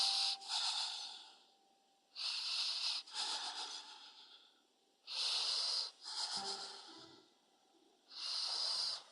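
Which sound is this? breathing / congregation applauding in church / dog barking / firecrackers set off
breathing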